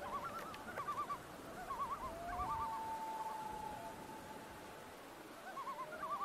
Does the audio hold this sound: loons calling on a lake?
yes